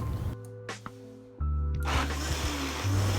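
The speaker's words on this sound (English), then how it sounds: "I'm going to transfer it to a blender and just blend the concoction together." A kitchen blender whirs through plant-based pasta sauce ingredients, its motor droning steadily and rising in pitch as it ramps up, with clunks of the jar and churning of the mixture.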